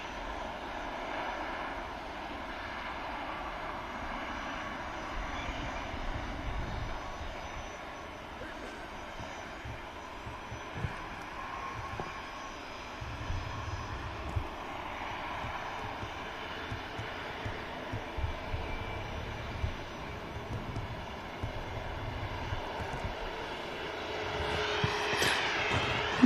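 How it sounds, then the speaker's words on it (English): Airbus A321neo jet at Manchester Airport, a steady, distant engine roar that lasts throughout, with a faint voice now and then. "Short hop over the Irish Sea for this 321 Neo."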